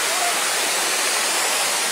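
Thudugala Ella waterfall in Sri Lanka, a steady, loud broadband roar of falling water that stays constant and close throughout, with no voices.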